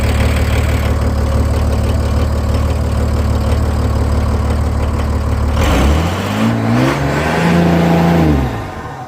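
A Ford LCF ramp truck's diesel engine runs at a loud, steady idle, then revs up and down twice as its turbos spool with a rising and falling whine, close by and with no talking.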